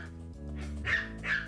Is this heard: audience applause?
no